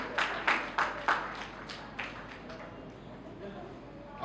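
Applause from the audience at an award ceremony for students, greeting an honoured guest: a burst of scattered claps that starts strong, then thins out and fades over a few seconds.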